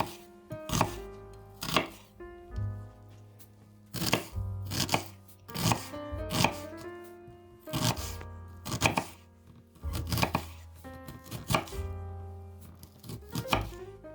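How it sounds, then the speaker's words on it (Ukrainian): A knife finely chops an onion on a cutting board in quick bursts of close, crisp strikes, pausing briefly between rounds. "Перше мілко нарізає одну цибулину середнього розміру"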